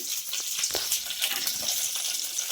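Curry leaves sizzle in hot oil in a clay pot while fish curry is cooked, a bright, steady crackling hiss with a few louder pops, close and alone.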